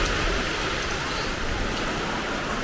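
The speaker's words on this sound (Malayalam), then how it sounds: "നല്ല ഇടിയും മഴയും" Heavy rain pours down in a dense, continuous hiss at steady loudness; no distinct thunderclap stands out.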